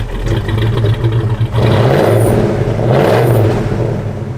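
A 1965 Ford Mustang engine idling close by, a deep steady rumble that swells in two brief revs before settling back, loud with no talking.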